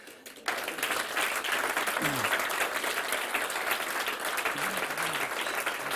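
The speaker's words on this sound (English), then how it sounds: "But a big applause for Nick." Audience applause at the Start.up! Germany Tour 2022 grand final: after a brief quiet moment, dense, loud clapping from a large crowd swells in and holds steady, with a voice faintly audible through it.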